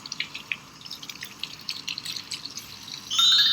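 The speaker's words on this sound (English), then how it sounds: "Now I'm going to rinse thoroughly with warm water again, making sure to rinse" Hands are rinsed under running warm tap water, with a light, uneven trickle and splashing close by, swelling into a louder, steadier gush at the end.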